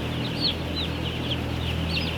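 A flock of chickens on a poultry farm clucks continuously, with overlapping calls rising over a steady low background hum, close and fairly loud throughout.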